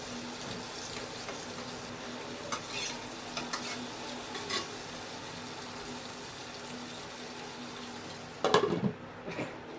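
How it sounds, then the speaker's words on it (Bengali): Salted tomatoes cook covered in a pan over low heat for chutney, giving a steady soft bubbling hiss that runs throughout, with a brief clatter near the end. "টমেটোটাকে ভালো করে নেড়ে চেড়ে একটু চাপা দিয়ে টমেটোটা সেদ্ধ হতে দেব"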